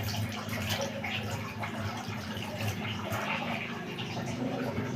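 Tap water runs steadily during six-step handwashing, a continuous faint splashing stream with light patter throughout, no speech over it.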